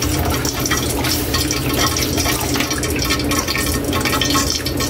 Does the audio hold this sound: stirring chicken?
yes